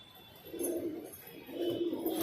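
Desi high flyer pigeons coo in a loft, two soft, throaty cooing phrases close by against a quiet background.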